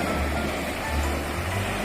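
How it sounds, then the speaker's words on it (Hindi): Ocean waves breaking and washing up on Marari beach, a continuous low roar of surf with rolling swells, steady and fairly close throughout. "ये देखिए, जब वेव आती है तो क्या सफ़ेद रंग के पानी में कन्वर्जन होता है"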